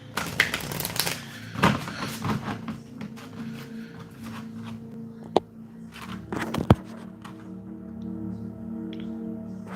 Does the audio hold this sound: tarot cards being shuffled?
yes